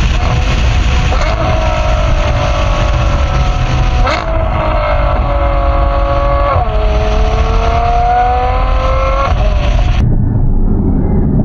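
A powerful supercar engine revs hard toward an 8,000 rpm peak and climbs through the gears, loud and close, with sharp shifts before cutting off abruptly.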